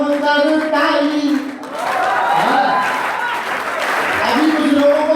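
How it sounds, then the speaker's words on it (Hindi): Audience clapping at a poet's poetry recital, a wash of hands rising in the middle and mixing with a loud voice speaking over the crowd. "ठोको ठोको रे जमकर ताली"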